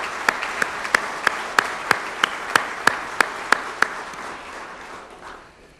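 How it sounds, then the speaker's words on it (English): A rhythmic round of applause at an awards event, with a crowd's dense clapping and a regular, steady beat of sharp claps that fade out toward the end. "How about a big round of applause for them?"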